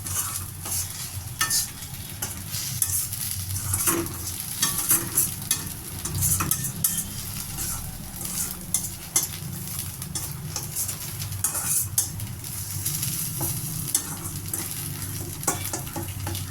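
Pirandai chutney stirred and scraped in a frying pan, a continuous sizzle broken by repeated scraping strokes of a spatula against the metal, steady and close throughout.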